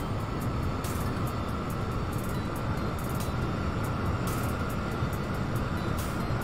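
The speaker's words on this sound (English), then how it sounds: "Alright, so this is our plane today, guys. This is our business jet." Steady, dense turbine roar from a Falcon 7X business jet climbing on autopilot at about 200 knots in the X-Plane 11 flight simulator, an unbroken even drone with no talking.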